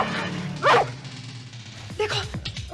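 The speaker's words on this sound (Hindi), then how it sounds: "ये रॉकी के भौंकने की आवाज है।" Rocky the dog barks a single sharp bark at close range, followed shortly by a few more yips and barks with people talking around it.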